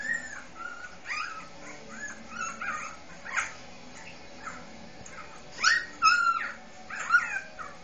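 Puppies shown on a computer screen whine and yip in thin, high cries, several separate bursts scattered throughout, fairly close and clear with no talking.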